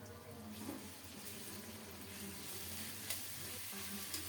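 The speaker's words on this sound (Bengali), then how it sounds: "আদা রসুন বাটা দিয়ে কিছুক্ষণ নেড়ে চেড়ে ভালো করে কষিয়ে নেব" Ginger and garlic paste sizzles with browned onion and a torn bay leaf in a pan for an egg curry, a steady moderate frying hiss with light stirring scrapes and no talk.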